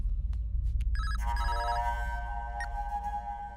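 A telephone rings with bright, warbling electronic tones over a low background rumble, the ring starting about a second in and sustaining.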